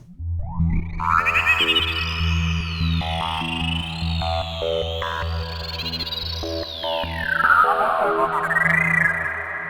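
A psychedelic Viper synthesizer patch built on Grain and Formant oscillators, with an LFO adding heavy movement: layered tones with swooping, gliding upper pitches over a steady low drone, continuous and fairly loud throughout.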